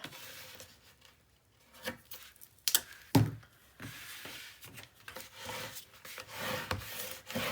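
Half-inch tape being burnished down onto chipboard for a mini album, with close, steady rubbing and scraping strokes, a few sharper knocks midway, and no speech over it.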